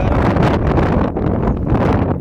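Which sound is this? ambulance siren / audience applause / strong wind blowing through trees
strong wind blowing through trees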